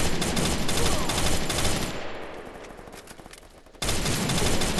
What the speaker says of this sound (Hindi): तो फायरिंग की आवाज़ें आ रही हैं सही